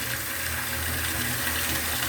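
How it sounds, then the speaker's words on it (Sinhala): Water runs steadily from a tap or pipe, a constant hiss with a faint mechanical rattle beneath it. "දැන් තමයි වතුර එන්නේ"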